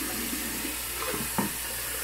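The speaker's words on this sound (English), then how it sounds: "Let me fill my bowl." Tap water runs into a shaving bowl at a bathroom sink, a steady faint hiss with a brief splash midway, no talking.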